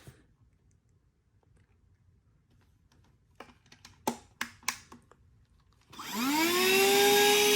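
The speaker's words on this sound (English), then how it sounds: "There's the vacuum." A KINMAC cordless handheld 4-in-1 car vacuum cleaner gives a few sharp button clicks, then switches on with a rising whine that settles into a loud, steady motor hum close by.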